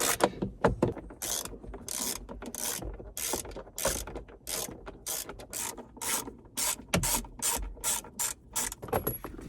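A ratchet with an extension tightens a bolt on a Jeep JL, producing rapid, close clicking bursts in a busy rhythmic series, pausing briefly between strokes, with no speech.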